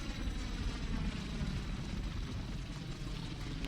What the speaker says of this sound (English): Sounds like airplanes.